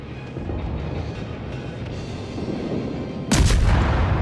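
Warship guns firing a salvo in the World of Warships video game, a single loud deep boom breaking over a steady rumbling engine and ocean background near the end.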